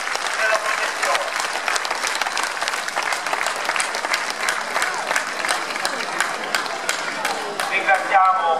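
Outdoor crowd at a religious procession for the feast of the Madre Addolorata in Alia, clapping for the young people and children; loud sustained applause from many hands, steady throughout.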